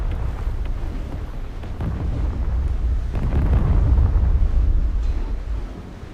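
A tank blowing up in War Thunder Mobile, a low, rumbling roar that swells and lingers like a sustained blast with a windy texture, loud and with no talk over it.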